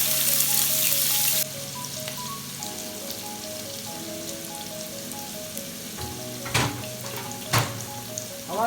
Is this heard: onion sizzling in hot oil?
yes